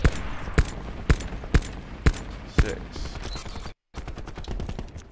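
Gunfire aimed at a barrel in Call of Duty Black Ops 4: five or six sharp, loud single shots spaced about half a second apart, then a brief cut of silence and a busier stretch of game noise.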